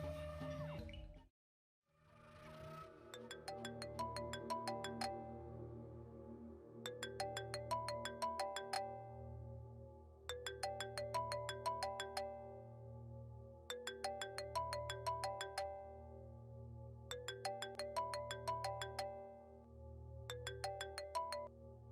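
A mobile phone rings while an outgoing call is placed, its electronic ringtone melody repeating in steady bursts about every two and a half seconds over a low background hum, close and clear with no talking.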